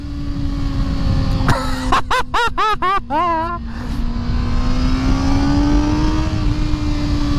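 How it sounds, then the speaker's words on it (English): A 2020 Kawasaki ZX6R sport motorcycle revs hard through several quick gear shifts, its pitch climbing and dropping in bursts, then settles into a steady loud drone up close. "That's why people ride these motorcycles, man."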